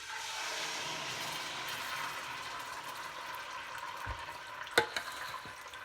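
Canned tomatoes pour slowly into a cooking pot with a steady wet, sizzling wash of sound, fairly close, and a few small knocks near the end.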